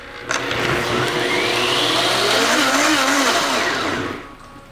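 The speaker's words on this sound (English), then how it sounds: "A little salt in there, a couple pinches, and just another quick blend." A blender whirs steadily for about four seconds blending a creamy vegan tostada sauce with a pinch of salt, loud and close, starting abruptly and winding down at the end.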